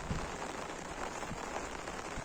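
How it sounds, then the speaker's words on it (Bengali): Heavy monsoon rain pours steadily onto a farm during fishing with nets, a dense, continuous hiss of drops hitting the surface with a few low thuds, no voices. "বৃষ্টি পড়তে আছে, প্রচন্ড বৃষ্টি।"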